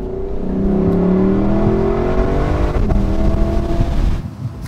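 A 2021 Lexus LC500 Convertible's V8 engine revs hard and climbs through the gears, a loud rising growl with a slight dip as it shifts, heard from inside the car.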